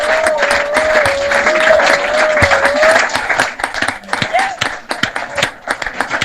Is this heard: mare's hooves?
no